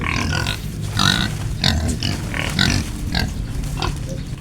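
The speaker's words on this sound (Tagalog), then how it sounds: "ang alagang baboy natin na nagpapadidi" A nursing domestic sow grunts repeatedly while being fed, low rhythmic grunts close by over steady farmyard background noise.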